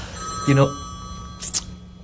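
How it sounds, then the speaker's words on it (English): A telephone rings in a hotel room, two short bright bursts of ringing separated by a pause, heard close over a steady background hum with a voice briefly sounding in between. "that's the phone ringing here"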